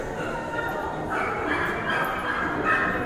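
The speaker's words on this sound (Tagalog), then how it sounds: "Uy, may aso. Bilihan ng mga aso." Dogs at a pet shop inside a shopping mall give out yips and whimpering barks, heard close amid the steady hum of the mall's crowd, with people talking nearby.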